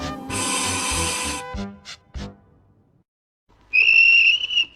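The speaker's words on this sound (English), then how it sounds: "That's my guard's whistle." A guard's whistle on a railway blows one shrill, sustained high blast near the end, following a burst of broadband noise and a few short thuds, then a brief pause of near silence.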